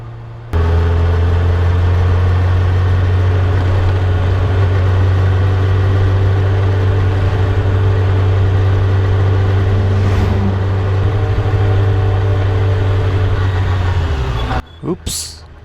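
A Kawasaki ZX-6R motorcycle cruises along a road with a loud, steady engine drone that holds one even pitch for the whole ride, then cuts out abruptly near the end.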